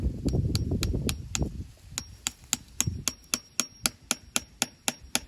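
A metal maple sap spout is hammered into a tree trunk, the sharp taps coming in a steady, even series, close and loud, after an opening stretch of heavier knocking and handling.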